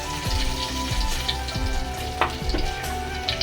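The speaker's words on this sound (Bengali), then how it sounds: "আলুগুলা বাজ্যা নেই" Potatoes fry in hot oil left over from frying rita fish, a constant loud sizzle with occasional knocks and scrapes of stirring.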